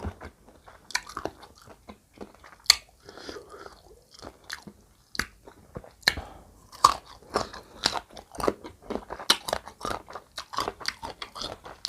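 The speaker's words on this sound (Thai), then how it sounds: "กินเมี่ยง" Someone eating miang, a Thai leaf-wrapped snack, with sharp crisp bites followed by wet crunching and chewing, close and clear amid quiet pauses, no speech.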